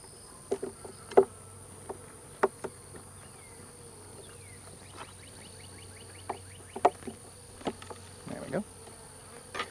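Honey bees in a weak hive of about one and a half frames, a faint steady buzz with scattered sharp clicks and knocks of frames and tools, no talking.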